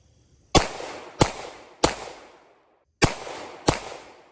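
Five sharp pistol shots from an HK USP9C firing Tula ammunition, loud and close, each crack trailing off quickly; three come at steady intervals, then a pause before two more.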